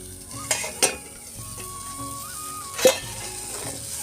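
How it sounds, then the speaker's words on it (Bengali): Pointed gourd fries in a pan and is stirred, giving a steady sizzle broken by a few sharp clinks of the spatula against the pan. "আবারও ভালোভাবে নাড়াচাড়া করে নেব।"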